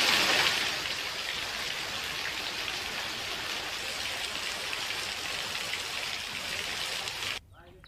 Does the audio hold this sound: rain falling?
yes